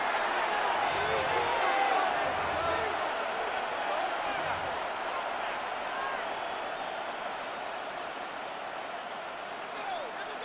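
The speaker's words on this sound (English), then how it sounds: "This crowd turning up the decibel level" Stadium crowd roaring in the Madden 26 football video game, a broad, sustained wash of noise with a louder swell early that eases slightly, and brief low voice-like sounds underneath at the start.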